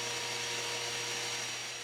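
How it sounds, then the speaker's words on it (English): A miter saw cuts through a wooden board being split in half for a bench, a steady dense whirring roar with a low hum that runs loud and unbroken for the whole short stretch. "Split the shorter board in half. I use my miter saw, flipping it between cuts."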